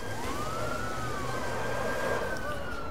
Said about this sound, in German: Ich habe viel Sirenen an. Ich bin Feuerwehrwagen Nummer 41.